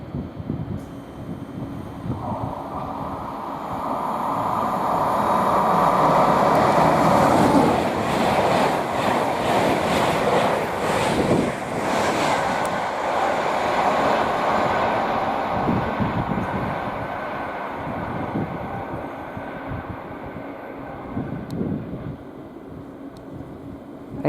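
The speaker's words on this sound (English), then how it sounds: "the next train to pass by is another 225 set heading to Leeds" Class 225 train set headed for Leeds, led by locomotive 91-130, passing at Potters Bar on the East Coast Main Line: a long, loud rushing roar that builds, holds with rhythmic wheel clatter and wind buffeting, then fades.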